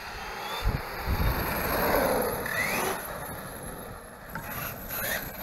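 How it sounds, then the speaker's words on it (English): A Team Redcat TR-MT8E RC monster truck running on 6S batteries drives nearby, its gears giving a steady whirring drone with shifting pitch, plus some outdoor wind noise and no talking. "Gears definitely are sounding better right now for whatever reason."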